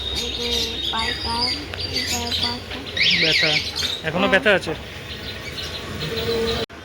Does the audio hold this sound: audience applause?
no